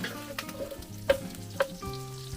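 Ingredients for laing, a dish of dried taro leaves, sizzle steadily as they are sautéed in a pan, with a few clinks of a utensil against the pan over the soft, continuous frying noise.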